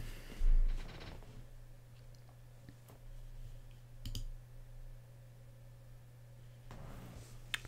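A few sharp computer mouse clicks stand out against a quiet hum, isolated and close, spaced irregularly.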